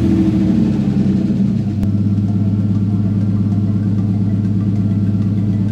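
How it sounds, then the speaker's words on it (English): A Nissan 240SX fitted with an LS2 V8 settles from a slightly higher idle into a steady, loud, even idle, the lumpy exhaust pulse droning close by with no talking. "Okay, so the car is on right now, and it sounds a lot better than it did before."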